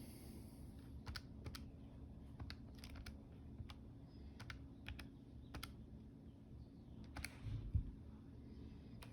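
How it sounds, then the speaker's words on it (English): Keys tapped on a computer keyboard, quiet irregular clicks in short bursts over a low room hum, faint and alone with no talking. "Let's type in the integral again."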